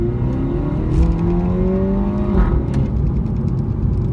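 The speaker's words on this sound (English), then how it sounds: "the exhaust just sounds unbelievable" A MINI Cooper S automatic rated at 210 bhp accelerates through a 20 to 50 run, its engine note climbing steadily with a throaty exhaust, close and loud, with no talking.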